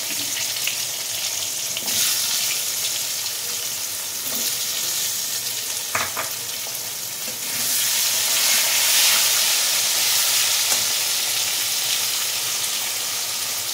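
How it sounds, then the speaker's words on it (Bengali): Thinly sliced potatoes frying in hot oil with turmeric in a kadai make a steady, close sizzle, with a few sharp stirring knocks. The frying grows louder and hissier partway through. "আলুটা ভেজে নেব"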